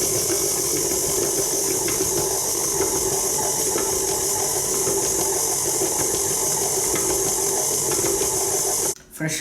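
A mixer kneads dough for a Nutella crostata with a loud, steady mechanical whir and hiss that runs unbroken for about nine seconds, then cuts off abruptly near the end.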